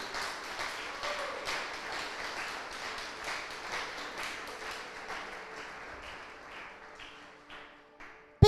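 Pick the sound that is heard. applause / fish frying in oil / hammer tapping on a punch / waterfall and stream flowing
applause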